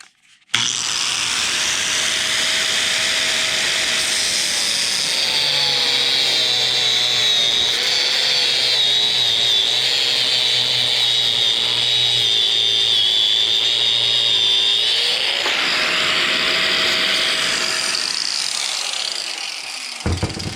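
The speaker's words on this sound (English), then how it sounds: "Take our angle grinder and go to town on it." An angle grinder cuts into a Dodge Ram locking hub, a loud steady high-pitched whine and screech that holds for about fourteen seconds, dips in pitch as the disc bites, then spins down near the end.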